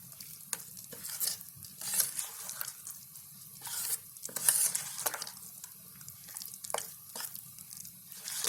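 A spoon stirs a thick, wet rice flour batter with chopped coriander in a bowl, with repeated soft squelching and scraping strokes, close up and fairly quiet.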